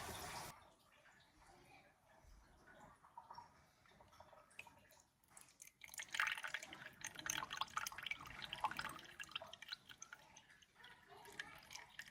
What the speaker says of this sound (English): I'm going to go ahead and get warm water, and we're going to get 50 grams measured out here.